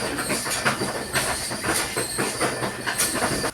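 A ball mill grinding gold ore: a continuous loud mechanical grinding and rumbling with rhythmic clatter and metallic rattling, steady and unbroken, like heavy machinery running nearby.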